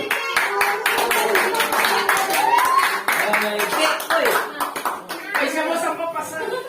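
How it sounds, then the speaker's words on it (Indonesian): Hand clapping at a family birthday celebration for a mother-in-law, brisk and rhythmic, with voices talking and calling out over it throughout. "Tepuk tangan."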